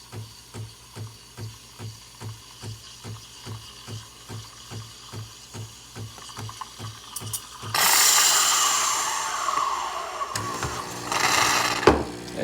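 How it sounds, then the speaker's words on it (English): A Breville Barista Pro steam wand heats milk, first with a rhythmic pumping tick-tick pulse, then bursting into a loud, hissing, gurgling steam rush for several seconds before tapering and briefly surging again; no voices. "Now we're just gonna wait until the milk is nice and hot."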